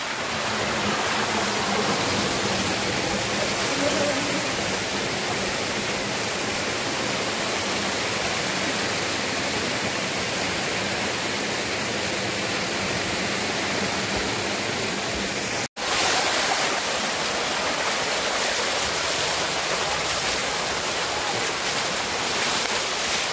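A year-round waterfall at Dhodhavane, Konkan, roars as a steady, dense rush of falling water, loud and continuous with no voices, broken by a single momentary dropout near the end.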